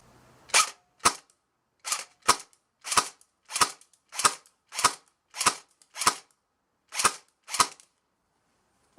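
Budget airsoft rifle firing .25 BBs through a chronograph: eleven sharp, evenly spaced semi-auto shots, each a crisp snap, loud and close with no talking.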